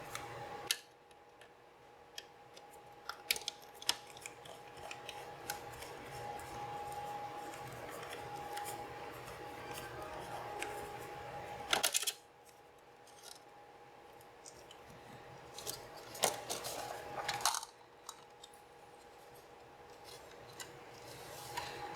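Screws are backed out of the floppy drive bracket inside a Toshiba T1000 laptop, giving faint, close metallic clicks and scrapes from a screwdriver in a quiet room, with a few sharper taps.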